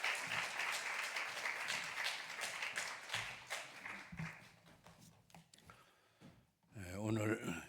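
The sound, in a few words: applause welcoming guests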